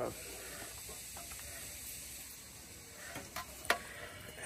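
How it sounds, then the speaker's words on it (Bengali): Ghee is stirred through khichuri in a pot in an outdoor garden, a steady sizzling hiss with scraping stir strokes and a few sharper clinks near the end. "একটু ভালো করে ঘি নাড়ানো হচ্ছে এখানে"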